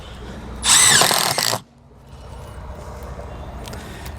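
A cordless power drill drives a screw into an aluminium awning rail on a 2019 CrossRoads Sunset Trail Super Lite RV, one loud whirring burst of about a second that stops abruptly, leaving quiet background.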